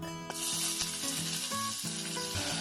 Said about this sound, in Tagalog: First, we need to put the cooking oil, then the garlic,